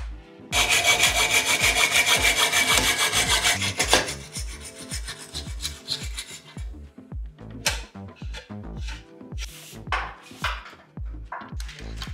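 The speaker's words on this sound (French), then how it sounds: "on va couper le pivot à la bonne longueur pour pouvoir mettre les entresoises à la bonne hauteur" A saw cuts through the steerer tube of a Specialized S-Works Tarmac SL8 road bike in loud, rapid back-and-forth rasping strokes for a few seconds, then slower, sparser strokes and light scraping follow.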